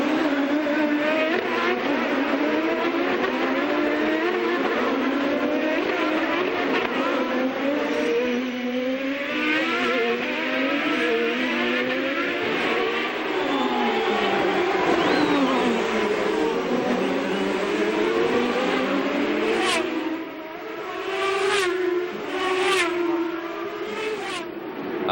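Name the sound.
Champ Car race cars passing at Surfers Paradise circuit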